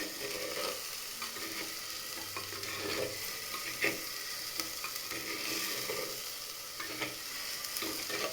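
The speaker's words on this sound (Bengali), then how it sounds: "পেঁয়াজের পেস্টটা দিয়ে দিচ্ছি বন্ধুরা, সুন্দরভাবে নাড়িয়ে নেবো।" Onion paste frying in a pan for dhaniya chicken masala, stirred with steady scraping strokes over a constant close sizzle, with no voices.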